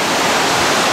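Atlantic Ocean water off Tenerife in the Canary Islands rushes loudly and steadily, a dense, unbroken roar of surf close to the listener.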